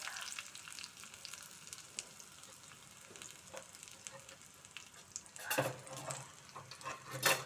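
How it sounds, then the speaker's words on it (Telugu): Curry leaves drop into hot tempering oil in a pan with the stove just switched off: a faint, steady sizzle that bursts into louder spitting crackles near the end. "అలాగే కరివేపాకు కూడా ఇలా వేసేస్తున్నాను."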